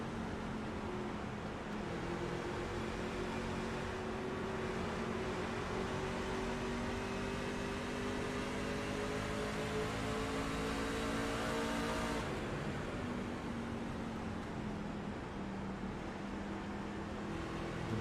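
Racing trucks in a video game at Phoenix, a pack of engines droning steadily with rising pitch sweeps as they accelerate, then a drop near the end where the note shifts lower, continuous and even with no talk.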